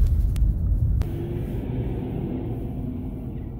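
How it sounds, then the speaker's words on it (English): A garbage truck rolls past on a city street, a heavy low rumble that swells briefly and then settles into a steady drone. "Garbage truck."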